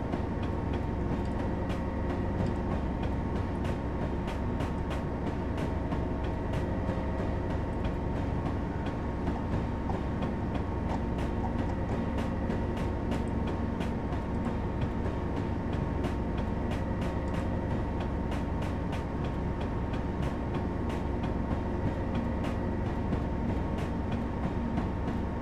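A locomotive runs in the Railworks train simulator game, a continuous low engine drone with steady rumbling and faint rhythmic clicks carrying on evenly throughout, and no voices.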